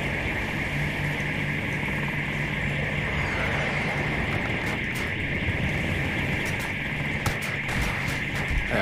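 A helicopter in Battlefield 2042 gameplay gives a steady, continuous engine and rotor drone at constant loudness for the full length, with brief faint clicks near the end.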